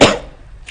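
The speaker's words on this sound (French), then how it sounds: "Je tousse un peu." A single sharp cough at close range, loud at the start and fading within a fraction of a second, with a faint hiss trailing after it.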